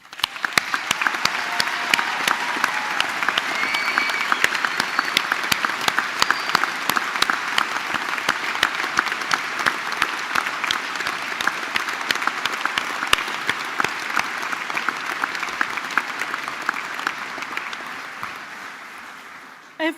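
A large audience at a university graduation ceremony breaks into sustained applause, dense even clapping that continues for about twenty seconds before tapering off at the end.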